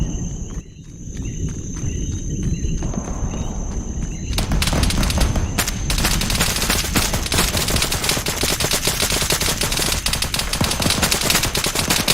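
Sustained machine gun bursts in a military video game, loud and dense, rattle continuously after a quieter opening with a high electronic tone, with scattered footsteps and no speech.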